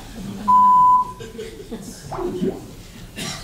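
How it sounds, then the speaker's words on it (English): A single steady electronic beep, clear and loud, lasting about half a second, followed by quiet room sound and faint voices. "Please leave a message after the beep."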